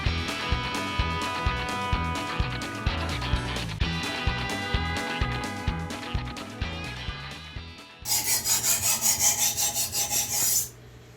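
Chef knife dragged in rhythmic scrubbing strokes across a 5k grit sharpening stone, a steady rasping series, with a brighter, harsher run of quick strokes near the end.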